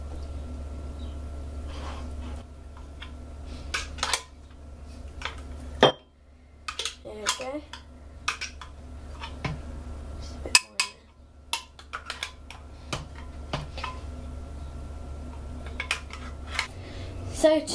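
Homemade hummus being scraped and spooned into a bowl gives sharp, intermittent clinks and taps of metal utensils against dishes, fairly close and quiet, with a low steady hum beneath.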